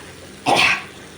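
A single short, harsh human cough, loud and close, standing alone against quiet kitchen background.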